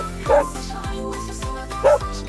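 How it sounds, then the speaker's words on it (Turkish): A dog barks twice close by, short sharp woofs spaced well apart over a faint background. "Köpek."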